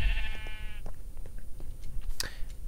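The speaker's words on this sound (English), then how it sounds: "There's a lot of sheep here." Sheep bleating in Minecraft, one wavering bleat up close at the start, then faint scattered sounds under a low background hum.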